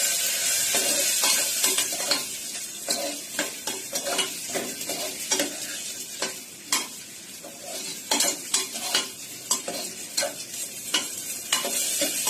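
Soaked polao rice is stirred as it fries in a pan for vegetarian khichuri, with a soft continuous sizzle broken by repeated scraping and clicking strokes of the spoon at an irregular rhythm.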